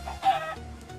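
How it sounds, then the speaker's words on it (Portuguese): Minecraft chicken clucking, a few short close clucks from the video game fowl, clear and alone without talk. "Galinha, o que você tá fazendo aqui?"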